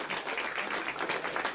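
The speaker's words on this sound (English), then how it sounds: "In the room there at the Jet Propulsion Laboratory erupting in applause." A control room full of people at the Jet Propulsion Laboratory bursts into steady applause during the Europa Clipper launch, a dense wash of clapping heard from a moderate distance.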